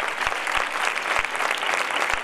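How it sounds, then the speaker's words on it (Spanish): A crowd at the 2014 Facinas fair coronation claps for the festival queen, a full, steady wash of applause with a few low thumps scattered through it. "un fuerte aplauso para nuestra reina"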